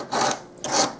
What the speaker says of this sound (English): So I've got some sandpaper, and I'm going to start sanding.